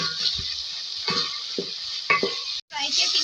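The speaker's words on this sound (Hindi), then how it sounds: "अब इसमें हम ऐड करेंगे पेस्ट अदरक का, एक खाने का चमचा डाला है इसमें। इसको भी फ्राई करेंगे।" A tablespoon of ginger paste fries in hot oil in a pan for a restaurant-style fish dish, with bright, continuous sizzling punctuated by a spoon stirring and scraping close by, then a brief gap before the sizzle resumes.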